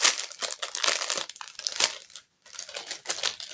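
Continuous crinkling and rustling of plastic packaging, loud and close, with a brief pause near the end before the crackling resumes.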